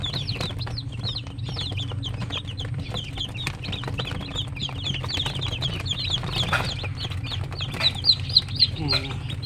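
A batch of newly hatched chicks peeps in a continuous chorus of high, rapid cheeps over a low hum, with a voice speaking now and then.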